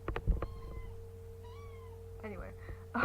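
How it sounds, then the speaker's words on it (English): A house cat gives a few short meows, close and moderately loud, over a steady low electrical hum, with some brief knocks and a person's voice near the end. "this is my cat."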